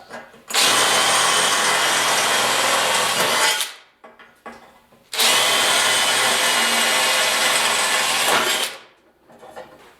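A power drill bores into the steel quarter panel of a 1969 Ford Bronco during restoration, two loud, sustained grinding runs of about three seconds each that wind down, separated by a short quiet pause.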